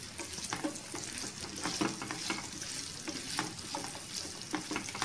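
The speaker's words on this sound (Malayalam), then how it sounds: "ഇഞ്ചി ഇട്ട് ഇത് വറുത്ത് ഒന്ന് മൂത്ത് വരണം." Ginger pieces fry in sesame oil with a steady crackling sizzle and intermittent stirring scrapes, close and moderately loud, with no voice.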